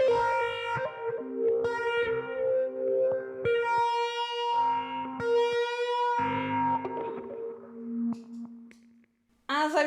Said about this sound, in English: I'm gonna try stacking distortion, crunch distortion on top of this